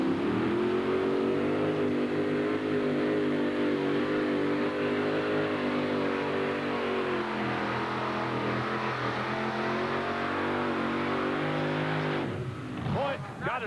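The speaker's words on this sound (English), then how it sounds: "to test that Ford Ranger against the big boys here on the Copenhagen Skull Grand National Pulling Circuit" A Ford Ranger pickup engine revs hard and steadily through a 2WD truck pull on a grand national pulling circuit, loud and sustained, with an announcer talking over it before the roar drops away near the end.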